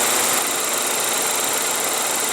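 A 2015 GMC Terrain with a 2.4 L four-cylinder engine idles in a steady, even hum with a hissy broadband wash, constant in level and free of talk.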